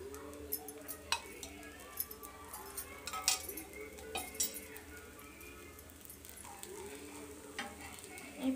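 A curry leaf and betel leaf dosa cooking on a pan with oil drizzled around it, giving a soft, faint sizzle with scattered light clinks and ticks throughout.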